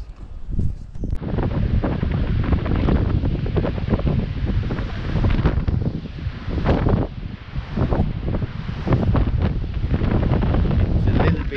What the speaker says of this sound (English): It's a little bit windy today and cold.